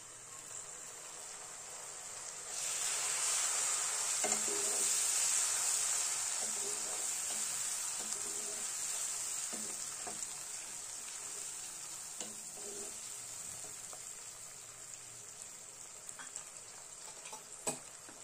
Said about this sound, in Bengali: এখন আমি দিয়ে দিচ্ছি এখানে ১ কাপের মতন পেঁয়াজ বাটা